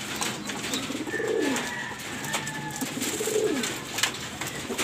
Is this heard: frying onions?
no